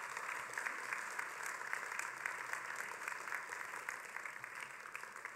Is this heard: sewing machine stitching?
no